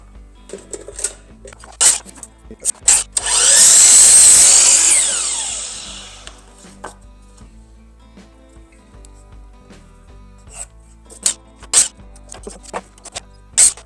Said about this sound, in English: All right, let's go cut some wood. Get over to the saw.